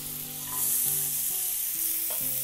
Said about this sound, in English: So I'm gonna take about 2 tablespoons of butter and throw the onion onto it.